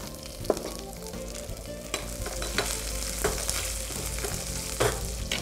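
Dried red chillies and peeled whole garlic cloves fry in hot oil with a constant crackling sizzle, punctuated by a few clinks and scrapes of a ladle stirring.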